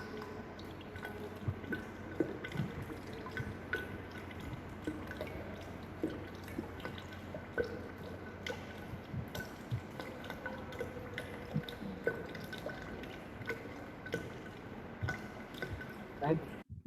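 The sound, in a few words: water dripping and filling a container to 1 liter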